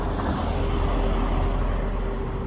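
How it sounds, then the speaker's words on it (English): A car passes by on a road, a steady, close, fairly loud roar of tyres and engine that holds evenly throughout with no voices. "Cars coming."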